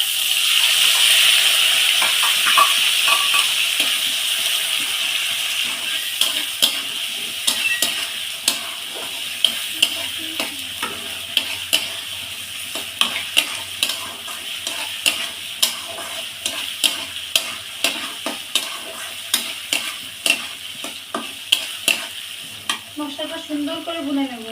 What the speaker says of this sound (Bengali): মশলাটা সুন্দর করে ভুনে নেব।